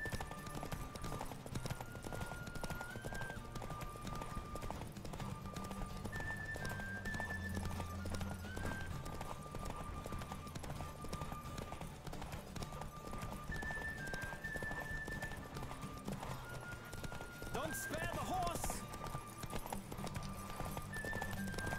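Horse galloping in a race in the video game The Witcher 3, with continuous fast hoofbeats close up, brief whinnies and short chiming game tones over the run.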